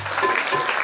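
Congregation clapping at a temple during a Kartik festival religious discourse, a brief burst of dense applause from many hands.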